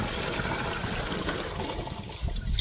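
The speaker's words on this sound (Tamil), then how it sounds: "இதில் தண்ணி எடுத்து ஊற்றுங்க." Water trickles and splashes steadily into a sprayer tank while a neem oil mixture is prepared for a paddy field, a continuous close pour with no talk.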